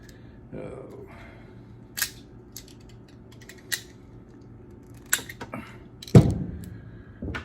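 Cords of a new ice maker being unwrapped, giving sparse plastic rustles and sharp handling clicks spread irregularly over several seconds, close and fairly quiet, with a louder knock near the end.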